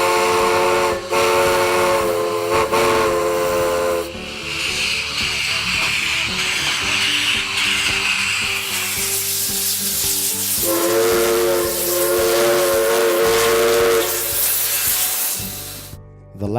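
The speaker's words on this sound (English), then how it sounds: "The day featured several events, including a steam-powered locomotive on the Stourbridge line." Steam-powered locomotive on the Stourbridge line, loud and close, with a long sustained steam whistle over a rumbling, hissing roll of the train and heavy broadband steam noise building midway.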